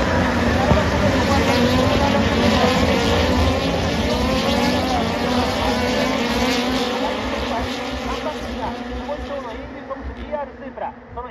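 A field of about forty SUPER GT race cars storms away from the start at Motegi's 2023 Round 8. A loud, continuous multi-engine roar with shifting pitches runs under excited commentary and fades toward the end.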